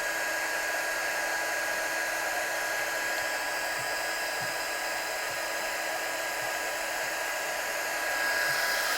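Heat tool warming a stamped card for embossing, blowing a steady, moderately faint airy whir that runs continuously without a break.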